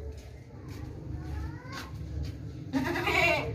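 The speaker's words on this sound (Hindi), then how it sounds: "साफ सुथरी चमकती बकरी है।" A healthy, plump dairy goat with a kid bleats loudly near the end, a wavering, harmonic cry rising over steady farmyard background noise.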